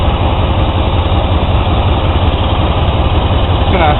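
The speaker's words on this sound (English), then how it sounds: "There, you can see the compressor just kicked on." Car engine idling with the air-conditioning compressor running while the system is being recharged with propane refrigerant, a loud, steady, close mechanical drone with no talking.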